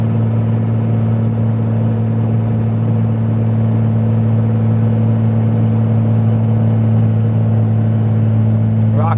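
A heavy truck towing a loaded firewood trailer of roughly 20,000 pounds climbs a hill at about 40 mph, its engine droning in a steady, loud, low-pitched hum with constant road rumble throughout.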